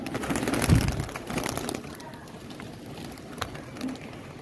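Domestic pigeons at a home loft make soft cooing and wing flutters, with a louder burst of activity early on and then quieter shuffling and scattered taps, close and with no speech.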